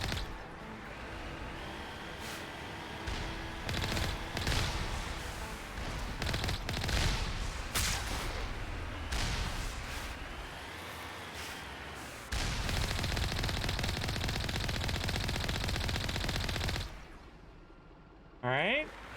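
Sustained bursts of gunfire from a gun in the Mass Effect video game, with heavy repeated shots through most of the stretch and a dense steady burst near the end, mixed with game effects and occasional talk.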